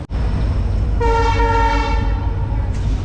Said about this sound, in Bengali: আমাদের ট্রেন চালসা ছেড়ে দিল